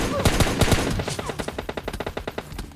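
Rapid bursts of gunfire from the PUBG Lite video game, with several loud close shots early on followed by a steady run of evenly spaced automatic rounds.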